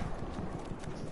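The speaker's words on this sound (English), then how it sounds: "I see someone on a horse." A horse's hooves clip-clop in rapid rhythmic steps in Battlefield 1, loud and near over a brief stretch with game background noise.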